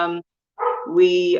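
Dog barking close by, one short bark followed by a longer yelping, whining bark with a brief gap between them, loud and up front, with a voice briefly heard.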